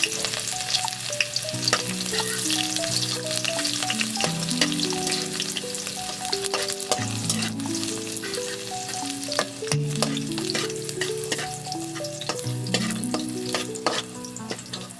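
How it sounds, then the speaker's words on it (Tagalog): Onion and garlic frying in hot oil in a pan, a loud continuous sizzle with clicks and scraping stirs, while music plays over it throughout. "O karong init na ang mantika, ibutang na nato ang onion o garlic."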